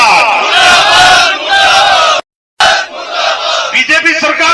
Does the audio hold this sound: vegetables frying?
no